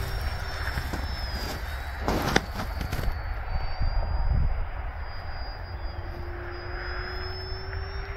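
An E-flite Turbo Timber Evolution RC plane fitted with floats flies over snow. Its electric motor whines steadily in the distance, rising and falling in pitch as it passes, with brief rustling noise near the start and no speech.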